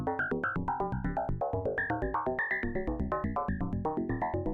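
A modular synth patch of FM operators driven by sample and hold produces a fast stream of evenly pulsed tones whose pitch and timbre jump randomly from note to note, bright and clear with no talk.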